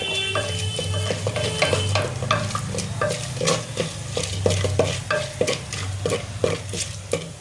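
Whole dried red chillies, bay leaves, black peppercorns and cumin seeds fry in hot oil for Bengali-style handi chicken, stirred with a wooden spoon. Steady sizzling runs under a regular rhythm of close scraping strokes against the pan.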